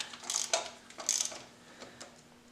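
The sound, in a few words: wrench backing out an over-tightened bolt, 2000 Mustang head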